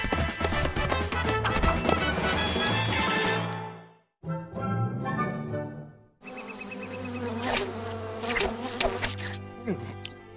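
Cartoon flies buzzing in a French animated jungle series: dense, continuous insect-like droning mixed with music and effects, cutting out briefly midway and then returning loud and busy.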